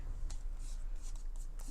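Soft, quick snips of scissors trimming the twine ends on a handmade stamped card embellishment, a few faint cuts heard close over a low background hum.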